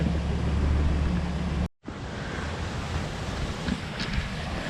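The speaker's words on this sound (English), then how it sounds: "This waterfall is incredible." A waterfall gives a constant broadband rush, buffeted by heavy wind noise, then cuts out briefly before resuming a softer steady roar.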